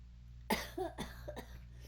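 Several dry coughs come close together, fairly near and moderately loud, against a quiet background.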